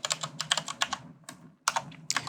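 Close, crisp computer keyboard typing: quick bursts of clicking keystrokes, a short pause, then another flurry of taps.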